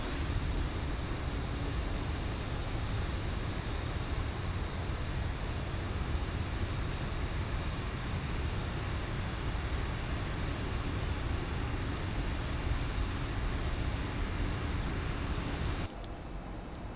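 Steady, broad roar of Boeing 737-800 airliner engines from the X-Plane 11 flight simulator, heard as a constant loud cabin-like drone that cuts off abruptly near the end.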